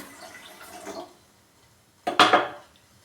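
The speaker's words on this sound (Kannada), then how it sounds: "ಇದಕ್ಕೂ ಸ್ವಲ್ಪ ನೀರು ಹಾಕೋತಾ ಇದ್ದೀನಿ" Water poured into a metal vessel holding jaggery makes a short, bright splash that swells and fades within about half a second, close up, after a soft earlier rustle.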